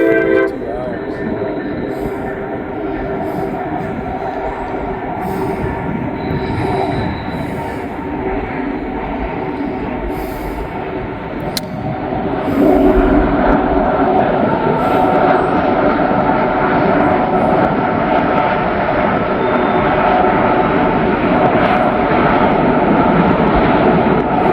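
Train locomotives crossing a very old bridge, a loud sustained jet-like roar and rumble that swells midway and stays heavy to the end, with faint clanks on top.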